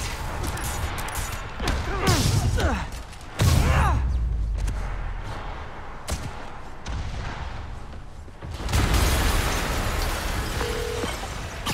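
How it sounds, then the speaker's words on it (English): Explosions in the video game Marvel's Spider-Man Remastered: heavy booming blasts and crashes strike repeatedly, with low rumbles, sweeping whooshes and debris noise filling the scene in loud bursts. "an explosion just... I saw it."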